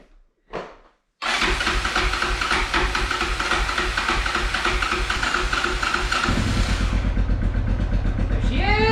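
After a short crank and silence, the engine catches and runs with a loud, steady roar and hiss, then settles into a lower, throbbing idle near the end.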